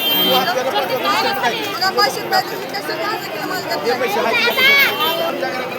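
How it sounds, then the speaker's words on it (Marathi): Dense chatter from a large crowd at the Tuljapur temple in hot sun, many overlapping voices at close range with no single voice standing out. "बघा किती गर्दी आहे"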